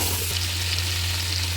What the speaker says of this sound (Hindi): चिकन को मसालों में अच्छी तरह से भून लेते हैं।